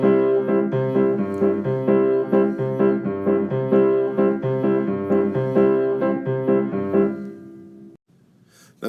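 Piano plays a Latin-style accompaniment in slow 4/4, the left hand striking steady offbeat chords under a melodic right hand, close and even, with the last chord ringing out and fading near the end.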